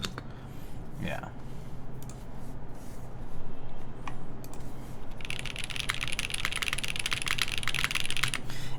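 Typing on a Hance Sela 70 mechanical keyboard fitted with GMK ABS keycaps, starting after a brief stretch of talking and settling into a dense, rapid run of close clacky keystrokes.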